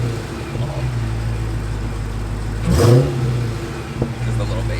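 A Dodge Charger Hellcat's supercharged 6.2L V8 idles with a deep rumble, then gives a sharp rev near the middle and a shorter blip after it, heard close by.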